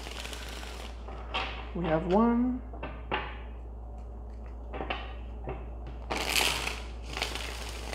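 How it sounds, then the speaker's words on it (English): Tarot cards are shuffled by hand in repeated crisp riffling bursts. A voice speaks briefly among them over a steady low hum. "Let's get three shuffles for the collective."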